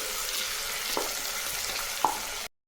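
Chopped onions sautéing in a pan give a steady, moderate sizzle, broken by a couple of brief clinks of a spoon, before the sound cuts off abruptly.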